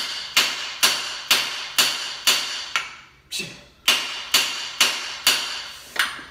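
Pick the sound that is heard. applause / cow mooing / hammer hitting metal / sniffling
hammer hitting metal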